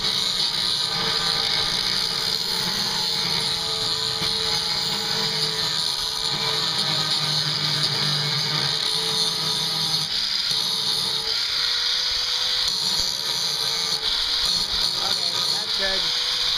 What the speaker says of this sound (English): so grind it one more time